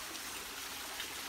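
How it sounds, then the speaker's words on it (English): Soft, steady trickle of water at the Chalice Well healing water pond in Glastonbury, a faint continuous babble with no voices. "there is the beautiful healing water pond that we have here"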